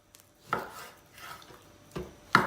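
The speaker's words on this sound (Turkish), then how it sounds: "Hayvanın kendi yağını önce kuşbaşı doğrayacağız." A knife chops a sacrificial animal's own fat into small cubes for Kurban kavurma: a few sharp, close knocks on a board at irregular intervals, with quiet gaps between and no talking.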